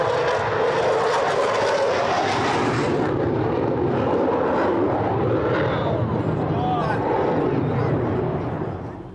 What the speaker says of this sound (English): So you can hear the volume increasing from the right-hand side. I give you Royal Air Force Typhoon.